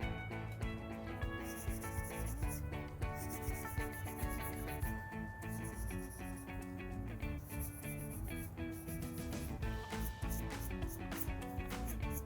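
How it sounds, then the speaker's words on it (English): A silver ring made by the lost-wax process is rubbed smooth to remove file marks, giving a steady, close abrasive rubbing in repeated strokes over a busy background with no talking. "you just keep rubbing it until you get rid of all those dings, file marks"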